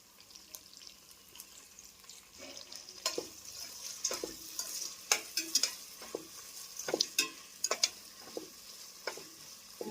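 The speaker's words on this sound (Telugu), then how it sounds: "వెల్లుల్లి పేస్ట్ పచ్చివాసన పోయేంత వరకు వేసుకొని కొద్దిగా కరివేపాకు కొద్దిగా కొత్తిమీర పుదీనా" Garlic paste sizzles softly in a pan while a spoon stirs and scrapes in irregular clinks and knocks, close and quiet with no talking.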